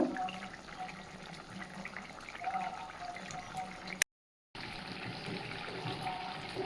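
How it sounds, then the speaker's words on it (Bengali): Fish curry boils in a pot with a soft, steady bubbling and gurgling, quiet and close, broken once by a short cut to silence. "তো মাছটা দিয়ে আবারও একটু ফুটিয়ে নেব।"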